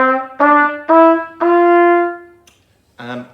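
A trumpet plays a short run of separate notes as its valves change the pitch, with four tones in quick succession, the last held longer, then a pause and one more short note, all loud and close.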